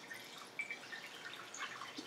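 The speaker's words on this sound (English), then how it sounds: "we're going to just pour the liquid into this pan, trying to catch the big pieces." Cabbage liquid pours into a pan in a quiet, faint trickle with scattered light drips and splashes, with no talking.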